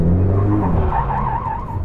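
A 2018 Ferrari 488 Pista slides sideways through a tight corner, its tires squealing and skidding loudly under the steady roar of the engine.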